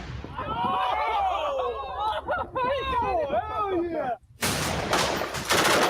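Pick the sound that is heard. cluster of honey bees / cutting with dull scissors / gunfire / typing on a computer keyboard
gunfire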